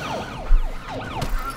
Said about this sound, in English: I'm just using the ambulance every round.